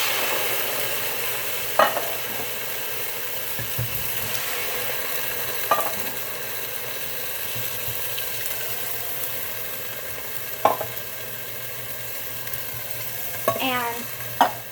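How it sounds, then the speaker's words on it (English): Canned diced tomatoes tip into a hot pot and get stirred during a home pasta-sauce cook, giving a steady soft sizzle with a few sharp clinks of a spoon or can against the pot, plus a brief scraping rattle near the end. "Now we're going to add 4 cans of diced tomatoes."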